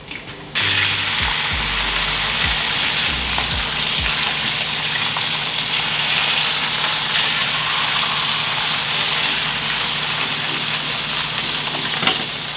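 Salmon sears in olive oil in a hot pan, a loud steady sizzle that kicks in abruptly and holds throughout, with a few low clunks of the pan early on.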